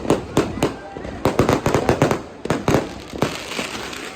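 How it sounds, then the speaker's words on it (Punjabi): Firecrackers pop and bang at midnight in a rapid irregular string of sharp cracks, with voices talking underneath. "ਚੱਲ ਪਏ ਪਟਾਕੇ ਵੀ"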